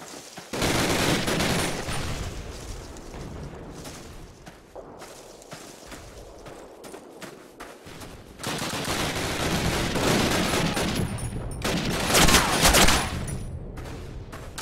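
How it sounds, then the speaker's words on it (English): Sustained MG-42 machine gun fire in a Call of Duty battle at Brecourt Manor, loud and continuous with overlapping bursts, swelling heavier in the second half. "They got two MG-42s up ahead."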